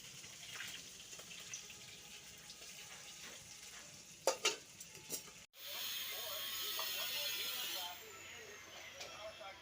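Fish frying in a pan, a steady sizzle and hiss running throughout with a few sharp clatters near the middle and a brief break before the frying resumes loud and even.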